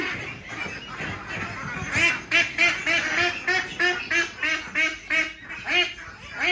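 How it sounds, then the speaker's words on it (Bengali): A flock of over two hundred ducks quack over and over in a loud, regular series of nasal calls, close by, with a few softer calls underneath. "এখানে প্রায় দুইশোর উপরে হাঁস আছে"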